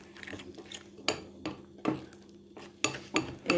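Henna being stirred in a bowl with a utensil, giving repeated scraping clinks against the bowl at an uneven rhythm, close and fairly clear with no talk.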